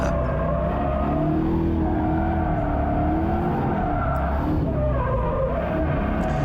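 A drifting car at speed with its front tires scrubbing, a loud steady engine roar with wavering pitch and tire squeal running continuously throughout, no talk.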